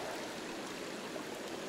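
A small river, the Listvennaya, runs like a stream through burdock-lined banks, a steady close rushing babble of water that fills the whole moment with no voices.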